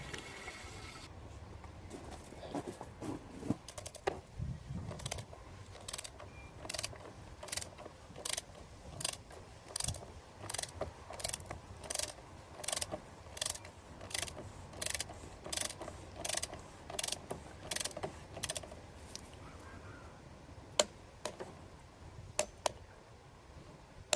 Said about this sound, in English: Torque wrench, 25 Newton meters.